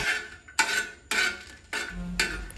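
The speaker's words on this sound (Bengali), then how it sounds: "এগুলো নেড়ে চেড়ে আমাদের ততক্ষণ পর্যন্ত ভেজে নিতে হবে যতক্ষণ না শুকনো মরিচের একটা গ্রান বের হয়" Dried red chillies being stirred and fried in a pan, four distinct scraping strokes of a spatula against the pan in an even rhythm, close and moderately loud over a faint sizzle.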